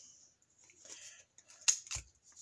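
Scissors snip the corners of folded fabric while a gusset pocket is being made, two or three brief, quiet crisp cuts close by in a near-silent room.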